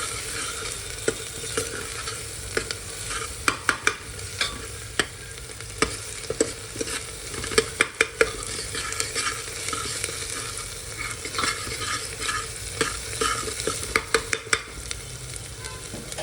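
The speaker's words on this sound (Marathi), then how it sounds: "एक मिनिट चांगला मसाला परतून घेऊ आपण।" Masala spices sautéed in a pan for a chana-potato bhaji: steady close sizzling with frequent scraping stir strokes and sharp clicks of the spoon against the pan, running alone without talk.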